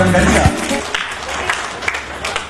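Audience clapping at a birthday celebration, scattered claps rising behind a speaking voice, moderately loud and close.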